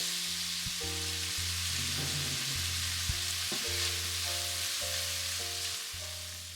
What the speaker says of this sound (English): When stir frying the meat, make sure that the meat is browned all over.